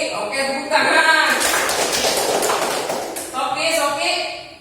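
A class of children clapping their hands in a noisy burst of about two and a half seconds, with a teacher talking before and after.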